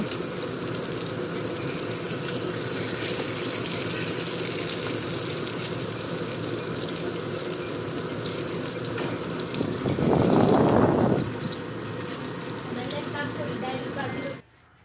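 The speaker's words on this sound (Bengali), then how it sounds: "দেখো এখানে বেগুনগুলো বসিয়ে দিলাম বেগুনের একটা পিঠ উল্টিয়ে দিয়েছি দেখতে থাকো সবাই বেগুনগুলো ভেজে নিই" Steady frying sizzle of eggplant slices in a hot pan continues throughout, swelling briefly louder near the end before cutting off.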